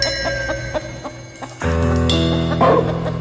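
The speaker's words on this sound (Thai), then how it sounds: "มึงได้ยินเสียงไก่ไหม" A chicken crows at night in a rural village yard, loud and close, with a rough repeated call that swells into a longer crow near the end, with no voices.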